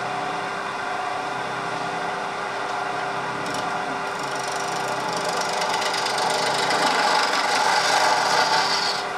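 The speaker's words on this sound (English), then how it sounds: "Here the gouge is bumping against that," Woodturning gouge cutting into spinning wood on a lathe, bumping on an eccentric, off-centre piece: a continuous harsh rasping scrape with steady rhythmic chatter, close and loud throughout, growing rougher toward the end.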